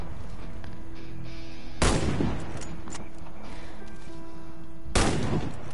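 Two sharp, loud sniper rifle shots in a video game, several seconds apart, each with a brief echoing tail over quiet background game sounds.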